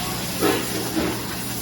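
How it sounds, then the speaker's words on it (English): Steady hiss of a hose spraying water over a whole cleaned fish at a fish-cutting station, a constant rinse with two slightly louder bursts partway through. "And you hose them down."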